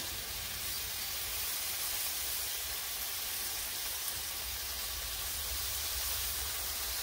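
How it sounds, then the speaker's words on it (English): Bacon sizzles on an outdoor Blackstone griddle, a soft, even hiss like light rain that stays steady and fairly faint from start to finish, with no one speaking. "So I'm just going to get my bacon on."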